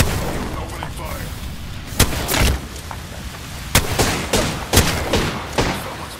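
Gunfire in the battle-royale game Apex Legends: sharp, loud shots crack out in irregular bursts over a busy background of game sounds, with a few heavier booming hits standing out.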